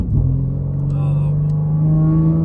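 BMW M3 G80 on a road drive, running an XHP transmission flash, hums with a steady engine drone and mild exhaust burble, close and continuous, while people talk over it.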